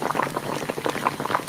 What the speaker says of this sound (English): That was water boiling.